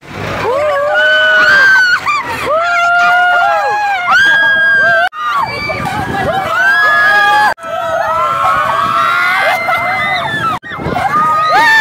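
Riders scream together on a swinging Viking ship ride at an amusement park. Loud, shrill, sustained wails rise and fall in repeated bursts over about twelve seconds, with brief breaks in between.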